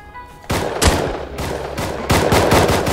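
Pistol fire in the Rust survival game on console: loud, close, sharp shots repeating in quick uneven bursts over about three seconds, several overlapping, with no talk.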